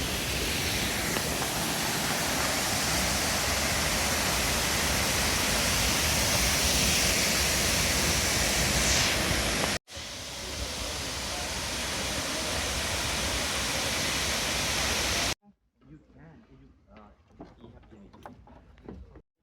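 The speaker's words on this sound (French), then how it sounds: "le temps d'observer ces grandes chutes d'eau, regardez" A loud, steady roar of a large waterfall at Doi Inthanon, Thailand, fills most of the recording, dense and unbroken, then cuts off to quieter sounds with voices.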